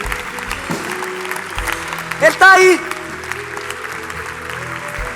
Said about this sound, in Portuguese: Dá uma salva de palmas a ele agora.